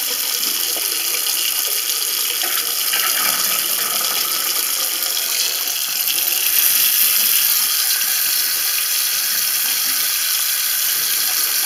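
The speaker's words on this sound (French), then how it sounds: "Maintenant, j'ouvre l'eau pour voir si mon lavabo est débouché." Water pours from a tap into a freshly unblocked bathroom washbasin, a loud, steady hiss that runs unbroken the whole time with no talking.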